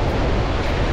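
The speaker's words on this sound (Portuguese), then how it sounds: "o mar vem avançando novamente aqui na praia de Candeias" High-tide ocean surf rolling onto Candeias beach in Jaboatão, Greater Recife, a dense, steady wash of breaking waves close by, loud and continuous with no voices over it.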